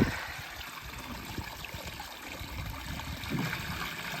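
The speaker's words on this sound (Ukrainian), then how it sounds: "Набирає водичку" Spring water trickles softly and steadily from a spring as a woman fills a container, a faint continuous babble with small splashes and no talking.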